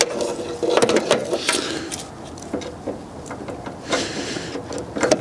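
Last 10 mm bolt being undone on a BMW 1 Series front wing: a series of close ratchet clicks and metallic rattles, with short bursts and pauses, fairly loud over a quiet garage background.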